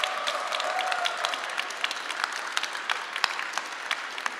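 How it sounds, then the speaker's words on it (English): A big round of audience applause at a children's book fair, steady and fairly dense clapping from a crowd, moderately loud and sustained throughout without speech. "And a big round of applause."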